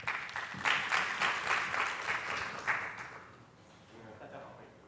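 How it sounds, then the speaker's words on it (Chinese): An audience claps to welcome a speaker at a civic-tech community summit session, a dense round of applause that is strongest early and fades out after about three seconds, with a voice coming in as it dies down. "那接下来就掌声欢迎"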